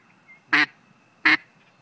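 A hand-blown duck call imitates a mallard with a raspy tone: two short, loud quacks about three quarters of a second apart, alone in a quiet room.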